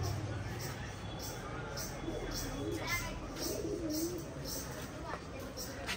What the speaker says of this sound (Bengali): কবুতর, পাখি।